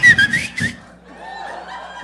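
A person whistles a short, loud, shrill call, with brief chatter and laughter around it in a casual conversation.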